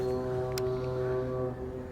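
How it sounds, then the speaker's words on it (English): Car horns honk outside a home, heard from indoors as a steady, overlapping blare of sustained tones that runs the full two seconds, fairly loud and constant with no talk over it. "Who is honking their horns? Can you guys hear that?"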